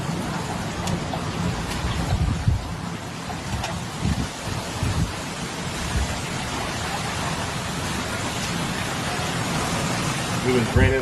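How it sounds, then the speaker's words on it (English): Steady rain falls in Italy with gusty wind buffeting the microphone, a constant dense hiss with occasional low thumps, loud and close throughout. "It was raining like this earlier today, this morning."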